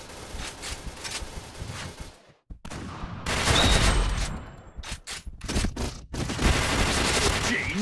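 Rapid bursts of Pindad SS2 V5 rifle fire in a shooting video game, dense automatic volleys broken by brief gaps, loud and close, with faint voices in the mix.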